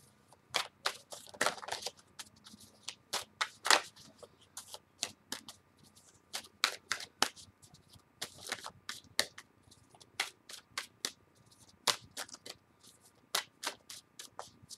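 Tarot cards shuffled by hand in irregular bursts of crisp riffling and flicks, close and fairly quiet, with short pauses between.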